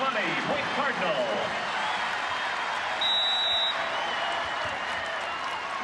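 Home crowd at a 2006 NCAA volleyball final in Omaha, Nebraska against Stanford, roaring in a steady dense wash with applause and cheering throughout, under a commentator's talk.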